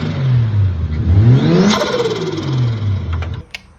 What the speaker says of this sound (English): The turbo flutter, for whatever reason, it's got the intake on it.